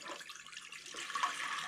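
Well water pours into a pot indoors in a tiny wilderness cabin, a soft, steady splashing trickle heard faintly and close.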